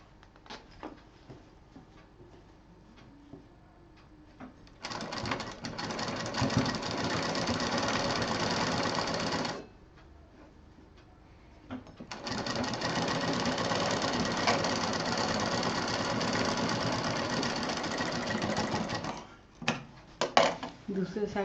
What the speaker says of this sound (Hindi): दूसरे साइड का भी इसी तरह हम सिल लेंगे।